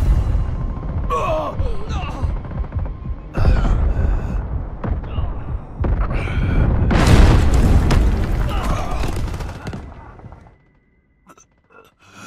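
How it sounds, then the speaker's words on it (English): Heavy artillery blasts in the Delta Force Hawk Ops video game during Havoc Warfare, several loud booming impacts with rumbling debris spread over the clip, dropping to near silence at the end. "Artillery cover coming."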